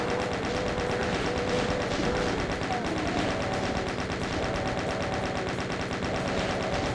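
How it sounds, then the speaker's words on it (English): A chain gun fires in the Doom mod Back to Saturn X with a steady, rapid, loud stream of shots that runs unbroken for the whole stretch. "Let's try and chain gun him to death."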